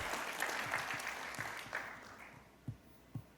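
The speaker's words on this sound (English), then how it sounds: "I would like to offer a round of applause to all of our panel speakers" An audience gives a brief round of applause for panel speakers at a conference forum, soft and fairly distant, fading into a few scattered claps.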